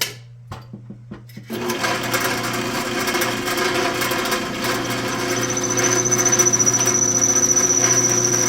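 A worn drill bit boring into a metal shifter part during a T56 shifter conversion: a few short taps, then a steady whining, squealing drill run that grows louder and sharper, up close with no talking.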